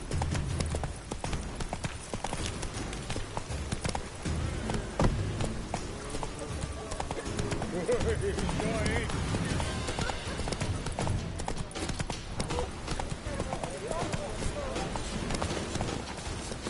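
Horse hooves gallop in The Witcher 3 video game, a steady rapid clip-clop that runs throughout with game sounds layered in and some speech over it.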